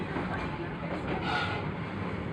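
A steady rumble of a safari tour train at Busch Gardens, Florida, with rolling wheel noise, heard from on board, continuous and moderately loud.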